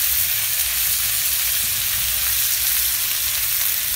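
Leftover roast chicken and already-cooked vegetables browning in a pan, with quartered lemon added, make a steady, loud, close sizzle of frying that holds evenly throughout with no talking.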